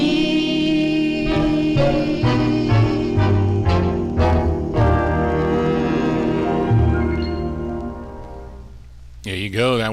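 A 1956 doo-wop vinyl record by the Wrens plays, sustained vocal harmonies over a steady backing with rhythmic accents, loud and continuous, ending in a brief burst of noise.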